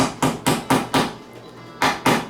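A hammer taps brass ferrules into a handmade Telecaster-style guitar body, six sharp, loud strikes in a loose rhythm with a short pause before the last two, close by and with no talk.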